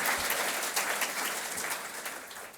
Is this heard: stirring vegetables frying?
no